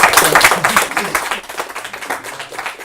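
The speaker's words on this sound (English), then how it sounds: "I think we should give a big round of applause." A short burst of clapping from a small group, brisk and fairly close, fading slightly toward the end.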